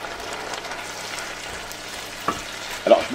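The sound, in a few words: onions sizzling, deglazed with white wine for tartiflette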